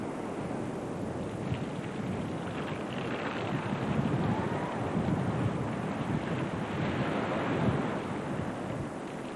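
Trade-wind ocean surf and steady wind buffeting the microphone on a windsurfing coast, a dense continuous roar of waves and gusts with no voices.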